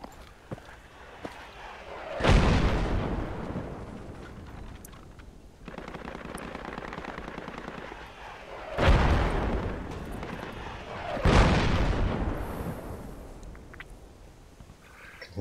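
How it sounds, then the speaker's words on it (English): Distant mortar shells and explosions thunder in the Project Reality military shooter, several heavy booming blasts with rolling rumble between them and steady background noise of battle. "Seems like they're mortaring the east side."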